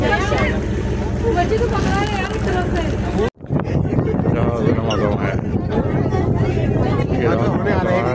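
Strong wind sweeps across a yacht club in Karachi, buffeting the microphone with a continuous rumbling roar, broken by a brief dropout midway, while voices carry on underneath.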